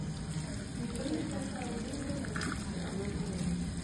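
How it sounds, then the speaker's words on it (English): Utility gloves are scrubbed with soap under a running tap in a dental clinic, a steady stream of water splashing continuously, with a voice talking over it. "we're gonna wash the utility gloves with hand rub or soap, but we're gonna use soap in this situation"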